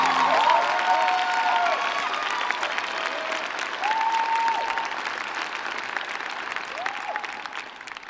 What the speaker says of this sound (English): please give a round of applause for this year's second part-time recipient